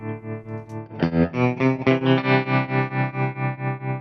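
Distorted electric guitar chords pulse in a steady, even wobble, the volume rising and falling rhythmically, loud and alone.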